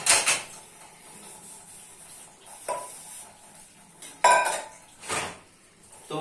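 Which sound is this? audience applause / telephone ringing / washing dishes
washing dishes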